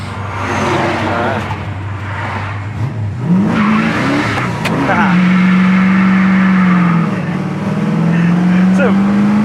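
A 1969 Chevelle with a small-block V8 and a carburetor not yet fully warmed pulls away, its loud engine note climbing in pitch as it accelerates close by, with voices faintly underneath.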